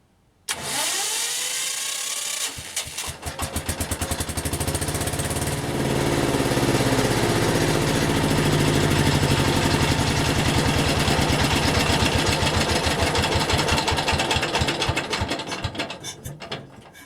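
A homemade diesel engine on a walk-behind tractor built from scrap metal cranks and starts, then runs with a loud, fast, rhythmic clattering close by for about sixteen seconds.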